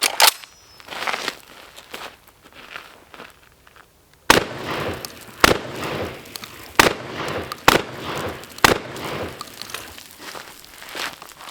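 Shotgun fired with weapon lights mounted on it, heard as five loud, sharp blasts spaced about a second apart after a quieter stretch of handling noise, close to the microphone.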